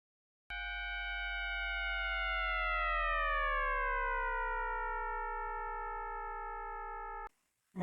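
An ambulance siren sounds as a long, steady wailing tone with stacked harmonics that slowly drops in pitch as it passes, loud and continuous for about seven seconds before cutting off abruptly.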